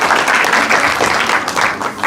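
Church congregation applauding together, a dense, steady wash of loud clapping that fills the whole short stretch with no voices over it.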